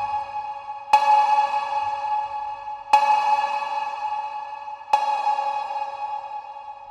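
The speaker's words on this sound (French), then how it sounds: "Vous entendez la saturation là sur la reverb?" Three short bright tones spaced about two seconds apart, each followed by a long, gritty, saturated plate reverb tail with added drive, decaying slowly.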